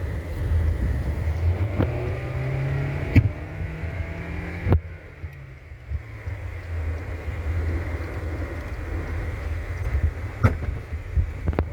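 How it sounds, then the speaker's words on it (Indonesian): Petrol Toyota Innova Zenix G car accelerating, a steady engine drone rising in pitch over several seconds with road rumble and a few sharp clicks, heard from inside the cabin without talk. "coba tes akselerasi, lihat speedometer"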